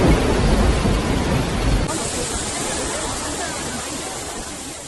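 Heavy thunderstorm with hail in Beijing, a deep rumble of thunder fading after two seconds into a dense, steady roar of rain and hail.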